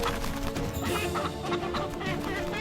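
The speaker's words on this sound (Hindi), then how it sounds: "ये है असील मुर्गा, असील।" Aseel roosters fight in a noisy, dense scuffle of clucking and flapping that stays loud and continuous throughout.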